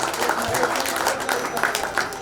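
Audience at a Bhiwandi bus depot staff reunion applauds a retired driver, a steady dense wash of clapping throughout, with a voice faintly over it.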